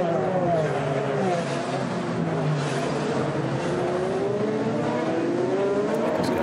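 IndyCar race cars at full speed in a 2021 series race, engines droning and shifting pitch as they pass, steady and loud throughout, with a commentator talking over the noise.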